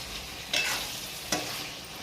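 Chicken curry with chili powder stirred in a hot pan, a steady frying sizzle broken by two short scraping stirs of a spoon, close and moderately loud with no talking.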